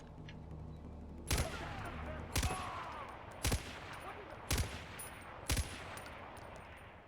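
Gunfire from a big gun in Far Cry 4, five loud, sharp shots spaced about a second apart, each with a short ringing tail over a low background hum.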